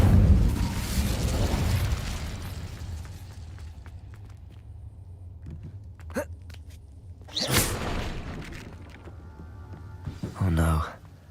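An Incendio fire spell in Hogwarts Legacy erupts in a loud whooshing burst of flame, followed by smaller pops and two more fiery bursts, with game ambience underneath.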